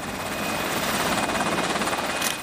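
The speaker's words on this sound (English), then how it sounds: "this Seahawk chopper was operating from HMAS Hobart over international waters of the Yellow Sea" A Seahawk military helicopter from a warship flying over the Yellow Sea, its loud steady rotor and turbine roar continuous and close throughout.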